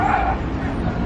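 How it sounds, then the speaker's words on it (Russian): A small dog yaps in short, sharp barks, close and loud, over a dense background of street noise. "Чем меньше собака, тем больше она гавкает"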